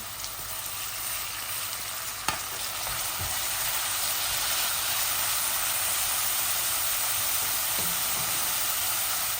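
Onions frying in a pan for a Bengali liver curry, a steady loud sizzle with scraping stirs and a couple of utensil knocks, no talk.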